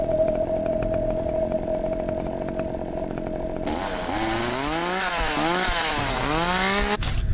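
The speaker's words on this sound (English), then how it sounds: "That is a comedically large chainsaw." A comically oversized chainsaw in the horror game Cursed Digicam, idling with a buzzing rattle before revving hard into a loud, wavering snarl that rises and falls several times, then cuts off abruptly.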